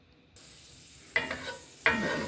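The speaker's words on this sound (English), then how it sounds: "And then we're gonna get our roux going." Roux starting in a hot pan with minced garlic and seasonings, a soft hiss rising to two sharper sizzling bursts as ingredients hit the fat, close and alone.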